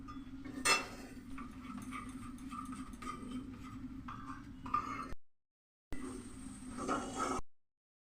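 A spatula scraping and stirring spices and mixed vegetables in a pan, steady metallic clinks and scrapes with a couple of sharper knocks, near and clear, broken by a short gap of silence before the stirring resumes briefly.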